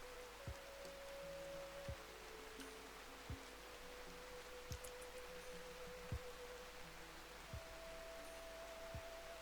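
Soft, steady rain hisses faintly in the RimWorld video game, with occasional light ticks and thin tonal notes of game music drifting above the quiet wash.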